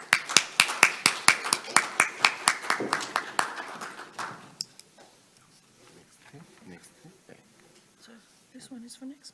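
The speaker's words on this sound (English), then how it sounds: "Please welcome her with a big round of applause." Applause breaks out in a conference hall as a speaker is welcomed onto the stage. A run of sharp, evenly spaced claps starts loud, thins out and fades after a few seconds into low room murmur.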